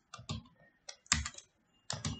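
Keys tapped on a computer keyboard in short bursts of a few quick strokes each, close and crisp, with brief pauses between bursts and no talking.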